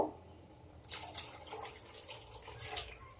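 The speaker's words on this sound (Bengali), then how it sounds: "এবার পরিমাণ মতো জল দিয়ে দেব।" Water pours steadily into a pan of cooked dal fried with spices, a continuous watery rush with dripping texture that starts abruptly after a quiet moment and runs to the end.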